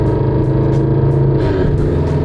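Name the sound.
FRS/BRZ/86 car engine and exhaust revving on E85 fuel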